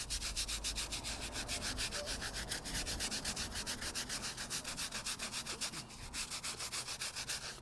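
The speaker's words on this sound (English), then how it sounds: "a dish scrubber from the kitchen, and we just work that in like that" A kitchen dish scrubber is worked back and forth over an oil stain on block paving, producing a close, rhythmic rasping scrub with quick regular strokes and no talk.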